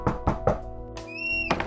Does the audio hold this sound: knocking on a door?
yes